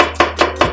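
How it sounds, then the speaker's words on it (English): A knife dices onion on a cutting board in three crisp, evenly spaced chops, close and loud, with no talking. "this ensures we've got nice even-sized dices of onion"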